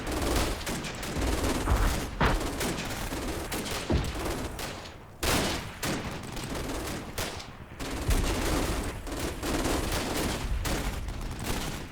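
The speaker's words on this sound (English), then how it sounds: "Yeah, the cracks of the K98s now." Rifle fire from German K98 bolt-action rifles in the Combat Mission video game, sharp cracks layered into continuous dense gunfire with mixed distant shots and booms throughout.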